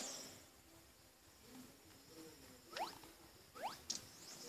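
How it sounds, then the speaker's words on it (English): Evening cicadas in the Yo-Kai Watch video game, a faint thin chirping with a few brief higher swishy sweeps toward the end over a quiet hiss. "These are evening cicadas"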